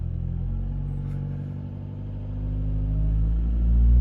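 A Mitsubishi ASX engine with a boost/MAP sensor fault idles with a low, steady rumble, then rises slightly as it is revved a couple hundred RPM, the hum growing gradually louder toward the end.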